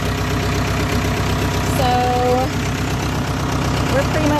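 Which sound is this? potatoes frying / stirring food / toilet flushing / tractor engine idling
tractor engine idling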